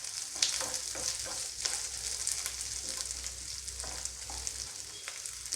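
Green chillies fry in a pan for a peas saagu, giving a steady close sizzle with light crackles and a few soft stirring scrapes throughout, no voices.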